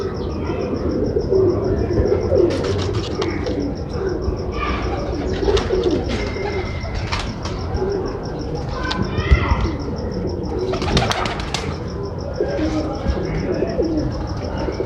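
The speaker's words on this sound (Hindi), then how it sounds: "अब हम आपको टैडी कबूतर दिखाएंगे" Teddy pigeons coo softly and repeatedly in an enclosure, with occasional chirps, wing flutters and a person talking throughout.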